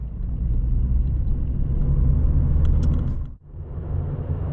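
A Vauxhall Corsa engine rumbles steadily while driving, a low, loud, continuous drone that dips briefly near the end before resuming.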